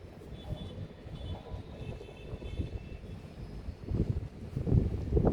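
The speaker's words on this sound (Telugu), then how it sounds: "ఫుల్ గాలి వస్తుంది, అందుకే మ్యాట్ రివర్స్ వచ్చింది." Strong wind blowing outdoors during an exercise session, buffeting the microphone with a continuous low rumble that swells into heavier gusts near the end; no one speaks.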